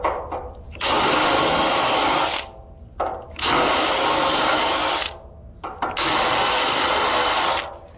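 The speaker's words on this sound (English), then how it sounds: "I'm going to countersink these holes a little bit" A power drill with cheap countersink bits countersinks holes in car chassis metal, whining in three long bursts separated by brief pauses, close and fairly loud with no talking.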